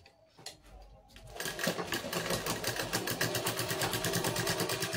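After a moment of soft handling noise, a sewing machine starts stitching a bag made from a rice sack. It settles into a loud, steady, rapid mechanical chatter that runs to the end.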